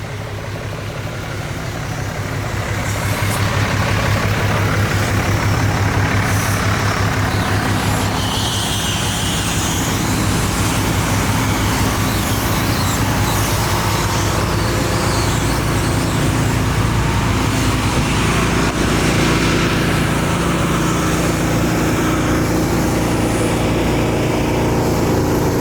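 Trucks at the Lonestar Throwdown truck show in Conroe, including lifted pickups on big wheels, rumble and idle nearby in a steady, loud wash of engine and traffic noise with no talking.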